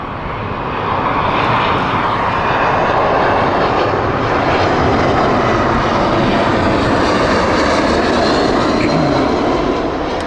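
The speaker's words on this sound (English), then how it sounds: "Inbound next is the Edinburgh flight. This is the shuttle service from British Airways." British Airways shuttle airliner arriving from Edinburgh and landing at Heathrow, a loud steady jet roar that swells in and holds broad and rumbling throughout, with no talk over it.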